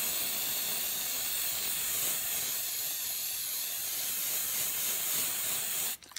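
A spray paint can hisses in one long continuous burst while painting the cabin of a Suzuki Carry truck, loud and close and alone, cutting off abruptly at the end.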